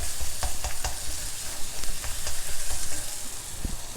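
A gongura leaf mixture for pulihora sizzles steadily as it cooks in oil in a pan, heard close up with a continuous crackling hiss and occasional stirring knocks.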